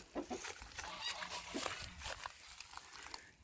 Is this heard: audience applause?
no